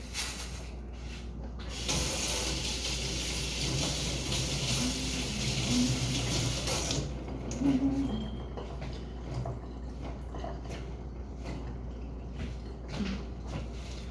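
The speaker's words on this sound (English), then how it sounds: "Let me rinse this out really quick." A kitchen tap runs while cilantro is rinsed, a steady close hiss of water with the flow changing as hands move beneath it, partly easing off after several seconds.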